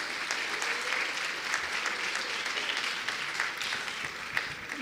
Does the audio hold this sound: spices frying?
no